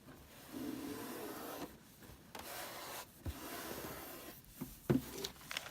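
Paper-pieced quilt block being rolled over and smoothed out by hand, giving soft, close rubbing and brushing of paper and fabric in low, intermittent strokes with a few light taps.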